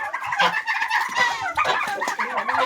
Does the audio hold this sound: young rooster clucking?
yes